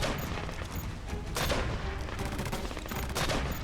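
Rapid gunfire in the video game Dead to Rights: Retribution, dense bursts of automatic shots and volleys rattling continuously and loudly, with sharper cracks standing out.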